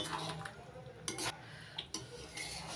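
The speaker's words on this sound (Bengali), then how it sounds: "ভাজা মশলার গুঁড়োটা ভালো করে মিশিয়ে নিচ্ছি কুলের সঙ্গে" A spoon stirs roasted spice powder into thick plum pickle in a pan, scraping through the mixture with a few short clinks against the sides, close up and moderately loud.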